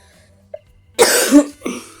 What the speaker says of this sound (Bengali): দেখো কথা বলতে বলতে মাঝে মধ্যে একটু কাশি টাশি উঠে যায় কাশতেও থাকি